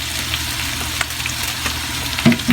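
Cabbage sizzles and fries in a pan while salt yakisoba is being made, a steady close crackle with a few soft clinks of stirring toward the end.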